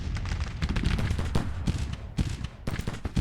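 Heavy Civil War battle fire in Grand Tactician, with 24-pounder howitzer artillery covering a bridge: rapid, overlapping booms and cracks in dense irregular bursts, loud throughout with no pauses.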